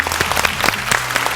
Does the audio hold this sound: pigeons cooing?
no